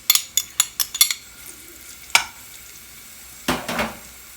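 Crushed garlic added to hot oil left from frying merguez sausages, with quick utensil clicks and scrapes against the pan followed by bursts of sizzling and stirring, close up with no voices.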